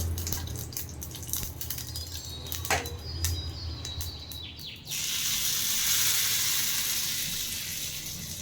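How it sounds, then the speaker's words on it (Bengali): Oil tempering with curry leaves, a dried red chili and mustard seeds sizzles and crackles steadily in a pan, the frying hiss swelling louder and broader halfway through, with small pops and drips near at hand and no talking. "দিয়ে দিচ্ছি সামান্য পরিমাণে তেল, কারি পাতা, একটা শুকনো লঙ্কা আর কিছুটা সর্ষে।"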